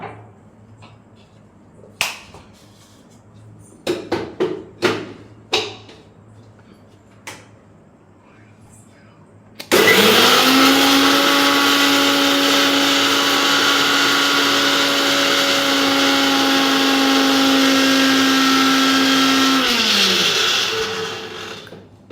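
An electric mixer grinder powdering roasted dried red chillies for idli podi, preceded by a few sharp clicks and knocks, then a loud steady high whirring for about ten seconds before winding down.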